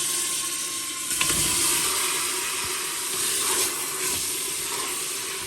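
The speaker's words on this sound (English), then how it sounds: "I'm just gonna allow this to fry a little bit until the water dries out that's in there" Lamb meat frying in hot oil in a pressure pot gives a steady, close sizzle and hiss that continues evenly with slight swells and no voices.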